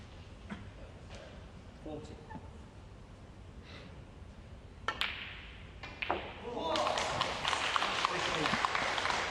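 A snooker crowd at the 2013 Wuxi Classic quarter-final applauding a shot. Soft ball clicks and light murmur come first, then clapping swells and holds steady through the last few seconds.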